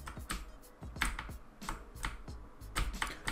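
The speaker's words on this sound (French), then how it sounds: "vous entendez très bien le clavier mécanique tourner" Rapid mechanical keyboard typing while playing Need for Speed Heat, clicky keystrokes in quick bursts with heavier thocks, close and fairly loud, no voices.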